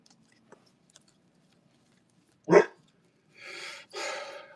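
A dog gives a single loud, close bark in an otherwise quiet room, followed by two rougher, noisy bursts that sound like further barks or vocal grumbles.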